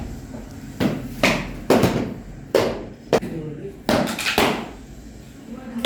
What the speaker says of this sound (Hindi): रबड़ के हथौड़े की मदद से हल्की से इसको टक्कर देंगे और ये फिक्स हो जाएगा।